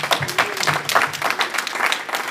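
Congregation applause in a church service, a brief burst of dense, fairly loud clapping with no voice over it.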